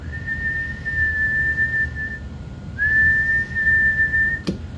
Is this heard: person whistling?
yes